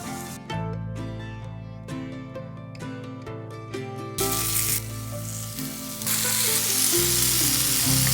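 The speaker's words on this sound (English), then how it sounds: "I'm going to be adding my batter 1 tablespoon at a time as well to a buttered pan" Pancake batter with mashed blueberries sizzles in a buttered pan, a steady close frying hiss that swells louder partway through as more batter goes in, with background music playing throughout.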